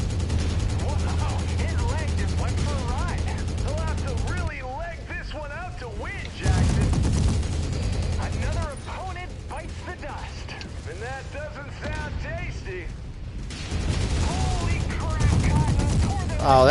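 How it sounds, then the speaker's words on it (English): Machine gun fire from a mech in the MechWarrior 5 Mercenaries video game, loud sustained bursts of rapid fire broken by short pauses, with someone talking over the gunfire. "I'm on machine gun only right now."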